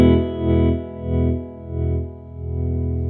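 Electric guitar chord ringing through a distorted, chorus-laden effects sound, its loudness swelling and fading in slow waves as the volume knob is turned up and down, with no talking.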